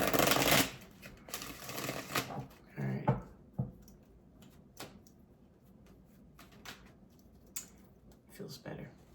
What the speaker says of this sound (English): Let me get a good shuffle in here.